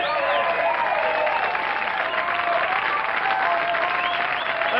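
Television studio audience in 1982 clapping and cheering after a comedy song, a dense, sustained burst of applause with a few whoops rising above it, continuing steadily for several seconds.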